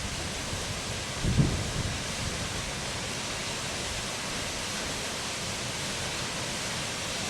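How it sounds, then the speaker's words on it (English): Wind at Baxter Harbour Falls in Nova Scotia, a steady full hiss of moving air and rushing water that stays even and loud throughout, with one brief muffled bump near the start. "There's the wind off it."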